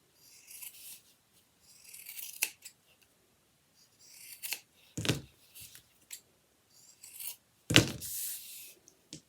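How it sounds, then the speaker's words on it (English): Scissors snip through a piece of fabric for a gingerbread holiday decoration, giving several separate bursts of crisp cutting and rustling with quiet pauses between, close and fairly loud. "Actually, I've got to cut a little bit more."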